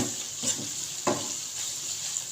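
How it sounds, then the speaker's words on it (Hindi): Potatoes with dry spices frying in a pan for an aloo anday breakfast dish, a steady close sizzle with a couple of soft scraping stirs, no talking. "इसको हमने फ्राई करेंगे 1 से 2 मिनट"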